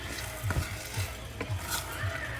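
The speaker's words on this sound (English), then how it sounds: "I'm going to lower my heat and just keep on mixing it" Pink glutinous rice being stirred in a hot pan, a spoon scraping and pushing through the sticky rice in a steady repeating rhythm over a soft sizzle, close and with no talking.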